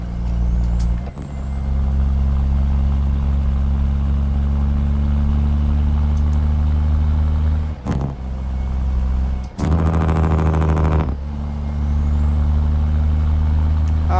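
Caterpillar C15 single-turbo truck engine in American Truck Simulator drones steadily at a deep, loud idle, with sharp air-brake hisses near 8 seconds and a louder burst between roughly 9.5 and 11 seconds.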